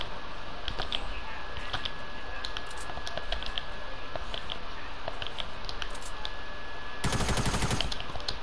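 Video game gunfire in a one-on-one gun duel, scattered shots and clicks over steady game noise, ending in a dense loud burst near the end.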